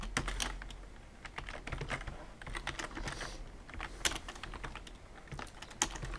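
Someone types C++ code on a computer keyboard in a quick, steady stream of close, crisp keystrokes with brief pauses, quiet and alone with no voice.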